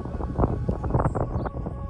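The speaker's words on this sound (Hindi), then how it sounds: "हवा बहुत ज़्यादा तेज़ है, बहुत ज़्यादा तेज़ हवा, ये देखिए आप हवा देख लीजिए।" Strong gusty wind buffets the microphone outdoors during a kite-flying contest, producing a rumbling, uneven roar that surges and drops over a couple of seconds.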